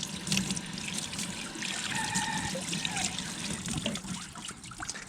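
Water runs steadily over a fig tree as it is washed and scrubbed, a continuous close trickle and splash with soft rubbing sounds mixed in.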